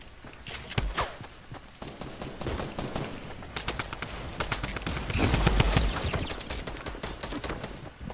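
A light machine gun rattles in Fortnite, with rapid bursts of automatic fire that come in clusters and run almost continuously. There are scattered other shots and clicks, and no voices are heard.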